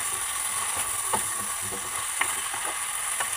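Pumpkin (kalabasa) being stirred in a pan with beef: a constant close sizzle broken by intermittent clicks and scrapes of a utensil, no talking.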